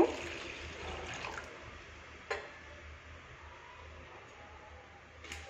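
Water poured into a bowl of chilli soybean mixture gives a faint, steady wash of liquid noise with a couple of light taps, heard alone.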